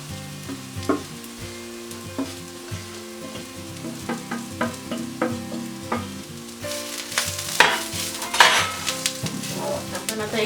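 Grated coconut fries with onion in a pan for a val bean usal, a steady sizzle broken by repeated spoon scrapes and clinks that grow louder and busier toward the end.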